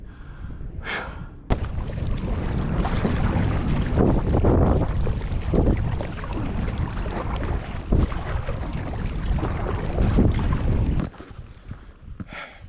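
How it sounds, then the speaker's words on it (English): Wind blows hard outdoors on a cold solo fishing and camping outing, gusting and buffeting the microphone in loud, uneven rushes before easing off near the end. "I'm too wet for that kind of wind"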